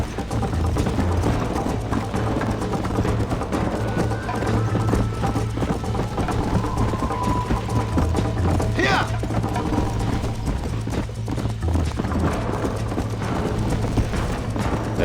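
Horse hooves clip-clop in a steady rhythm while riding in the Red Dead Redemption video game, running under continuous game sound with a person talking over it.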